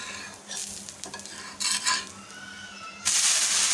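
Set dosa made with sago and flattened rice, flipped on a hot pan: scraping and stirring clatter, then a bright, loud sizzle bursting up in the final second, with no talk.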